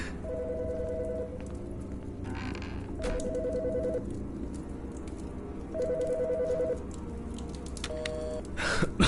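A phone rings in the video game Wuthering Waves, repeated electronic trill bursts in a steady pattern over a low game background hum, four rings spaced a couple of seconds apart.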